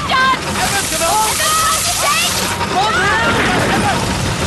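Water sloshes and splashes from hoses and buckets as people rush to put out a fire, continuous and fairly loud beneath urgent overlapping shouting.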